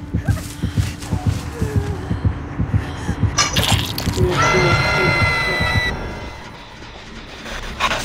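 The killer's terror-radius heartbeat in Dead by Daylight thumps in a steady, loud rhythm for several seconds, then a brief metallic burst and sustained in-game noise take over as the pounding fades.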